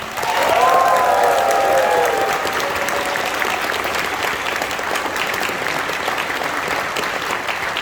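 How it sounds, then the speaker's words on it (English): Broad, sustained applause from a large crowd at a furry convention opening ceremony, honoring a guest, with brief cheers and whoops near the start before settling into a steady wash of clapping. "big round of applause for Adler"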